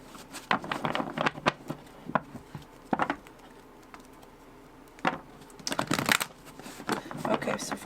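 Tarot cards being shuffled by hand during a pick-a-card reading, giving close, dense bursts of riffling patter that come and go with short pauses between them.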